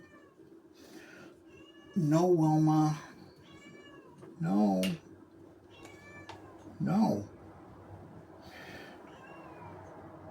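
A kitten lets out three distinct drawn-out meows spaced a couple of seconds apart, close and clear, with a person speaking briefly between them in a quiet room during a model kit build.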